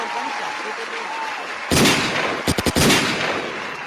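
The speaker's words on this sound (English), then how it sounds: "Gunshot." A single sharp gunshot-like blast followed moments later by a quick burst of several cracking reports, loud and close, after a stretch of quiet background noise on a porch.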